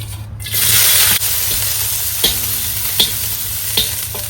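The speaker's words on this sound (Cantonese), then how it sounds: "先爆乾葱" Loud sizzling of shallots stir-frying over low heat in chicken-wing oil, with a few sharp scraping strokes of a spatula against the wok.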